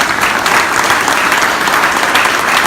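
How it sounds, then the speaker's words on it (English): Loud, dense applause from an audience, steady clapping throughout with no voices standing out. "let's give everybody a big round of applause"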